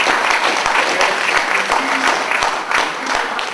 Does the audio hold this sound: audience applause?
yes